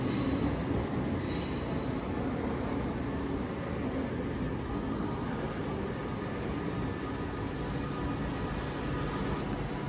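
A train at London Euston pulls away on the service to Chester, a steady loud rumble of wheels and engine with faint rail clatter running throughout, no voices.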